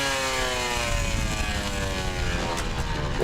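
A trials motorbike engine starts up and runs steadily at close range, a constant droning hum with rising harmonic tones as it revs, continuous and loud throughout with no talking.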